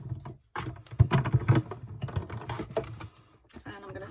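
A blade drawn repeatedly through three stacked layers of card, giving close, scratchy rasping strokes in short uneven bursts with brief pauses, fairly loud and without talk.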